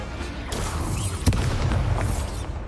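A Confringo fire spell blasts off in the Hogwarts Legacy game, a loud booming explosion with a sharp crack near the middle, set amid dense rumbling combat noise that carries on throughout.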